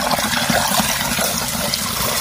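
Strong, steady rush of water flowing on a farm while spraying herbicide, a dense continuous gush that stays loud and even throughout with no talk over it.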